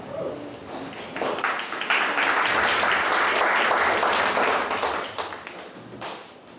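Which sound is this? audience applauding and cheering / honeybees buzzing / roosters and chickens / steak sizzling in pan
audience applauding and cheering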